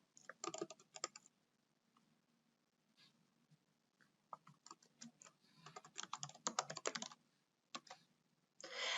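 Typing a username and password on a computer keyboard, with quick clusters of close, crisp key clicks separated by short pauses, ending in a louder run of keystrokes.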